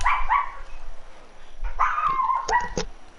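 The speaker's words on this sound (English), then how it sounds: "Oh, I hear puppies." Puppies bark and yip close by in short bursts, a few sharp barks followed by whimpering cries, loud against a quiet background.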